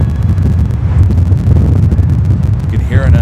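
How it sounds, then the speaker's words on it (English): A strong west wind at Los Angeles LAX airport buffets the microphones with loud, low rumbling gusts, steady and close for several seconds while other noises come through faintly underneath. "It definitely is windy."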